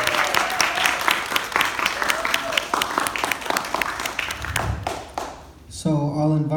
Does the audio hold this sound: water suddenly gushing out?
no